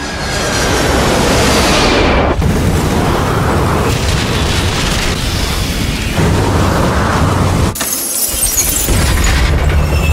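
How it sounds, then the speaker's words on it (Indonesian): An airplane cockpit windshield shatters as a film sound effect, a continuous loud roaring blast of rushing wind and debris, with a sharp crash near the end and no talking. "kaca yang pecah menyebabkan kopilot tersedot keluar karena perbedaan tekanan udara"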